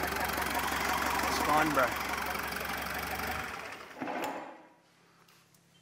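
Mitsubishi 4M41T diesel engine in a fire-damaged wrecker, idling with a rough, knocking rhythm for about three seconds before it shuts off and falls quiet, with a voice speaking briefly near the end.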